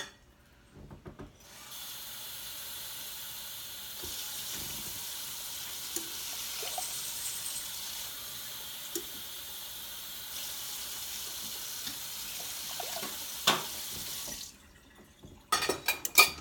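Tap water pours steadily into a measuring cup for about thirteen seconds in a home kitchen, a continuous splashing hiss that cuts off, followed by a few light clinks.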